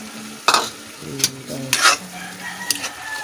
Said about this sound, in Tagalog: haluin natin siya guys para masarap.